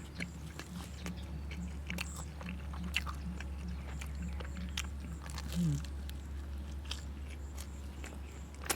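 Crunchy biting and chewing on crispy crust from a four-topping pizza, close and steady, with scattered crisp bites and soft mastication over a constant low hum.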